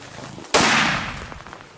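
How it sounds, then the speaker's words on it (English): A single loud rifle shot fired at a lion, a sharp close crack followed by a long ringing decay across open ground, with faint murmuring before it. "Shoot that yellow."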